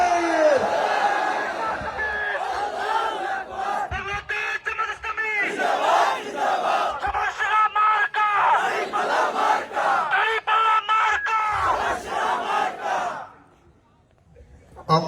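A crowd at a rally of the Bangladesh Jamaat-e-Islami Betagi upazila branch chants the takbir response, loud repeated massed shouts in waves that fill the space, then drop to quiet near the end.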